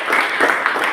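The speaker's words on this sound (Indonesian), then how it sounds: "Kita berikan tepuk tangan." In a classroom, a group claps together in a brief burst of applause, dense and fairly loud, lasting about a second.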